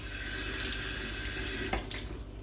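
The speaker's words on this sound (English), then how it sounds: "we're gonna wash our spring onion." Tap water running steadily into a kitchen sink while spring onion is washed, a close, constant splashing hiss that breaks up near the end as the flow is interrupted.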